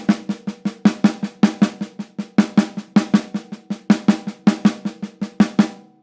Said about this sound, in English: let's accent the first 2 of each group. Again, leaving it on the snare drum.